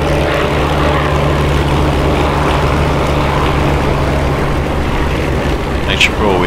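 A WW2 propeller fighter engine idles loud and steady on the runway in the DCS combat flight game, a constant droning hum filling the whole clip with a low tonal throb and a brief click near the end.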